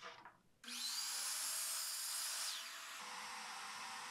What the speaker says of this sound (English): I'll start by cutting one side at a 45 degree angle